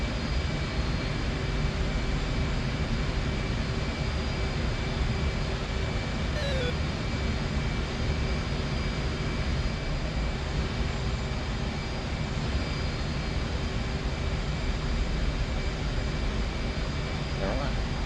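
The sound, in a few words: F-14 jet aircraft engines in DCS video game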